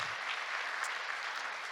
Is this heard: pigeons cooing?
no